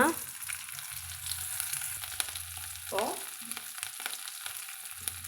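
Chopped green chili and ginger are added to a tempering of hot oil and chana dal for urad dal sundal, giving a soft steady sizzle with light stirring clicks, close and fairly quiet, no voices.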